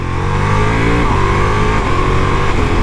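A 2024 Ducati Multistrada V4 S motorcycle engine revving close by, loud and throaty, its pitch dipping and climbing again with a gurgling rumble.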